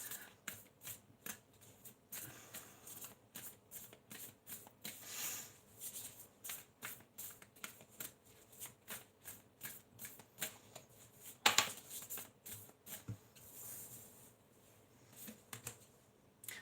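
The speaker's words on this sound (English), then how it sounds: "Let's start pulling your cards." Tarot cards being shuffled and pulled during a live reading, a steady run of quick papery riffles and flicks, fairly faint and close, with a sharper snap near the end and no talking.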